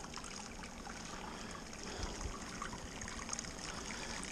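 Wort trickling and splashing as it is collected while home brewing a plum beer, a steady close liquid stream with a bubbling, hissing texture that runs unbroken and is heard alone.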